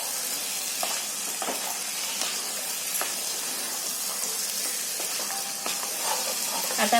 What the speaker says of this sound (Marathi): ते मसाला टाकून पण असं चांगलं आहे ना फिरवून घ्यायचं